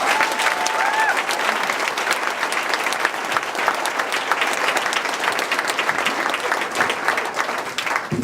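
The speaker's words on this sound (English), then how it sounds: "Can we give her a huge round of applause?" Wedding guests applaud during a reception speech, a loud, steady round of clapping from a crowd that holds evenly for several seconds, with a brief whistle or voice near the start.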